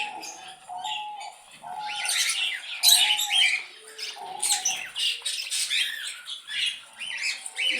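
Pet parrots and ducks in an enclosure squawk and chirp loudly at close range, with overlapping harsh calls in repeated bursts and a few lower honking notes between them.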